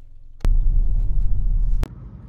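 A new Opel Mokka pulls away with a low, steady engine rumble inside the cabin, framed by two sharp clicks at start and end, with no talking.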